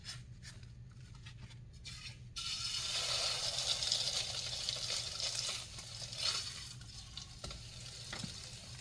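Ground sausage dropped into a hot pan sets off a sudden loud sizzle after a quiet start, then a sustained crackling hiss with occasional scraping of stirring.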